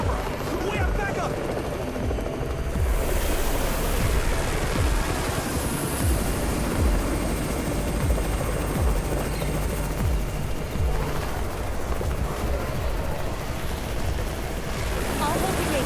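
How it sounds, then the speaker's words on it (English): A helicopter's steady rotor chop drones loudly throughout in the mobile game Undawn, mixed with a dense wash of game noise and effects, and a voice occasionally talks over it. "It's the Raven's chopper! We have backup!"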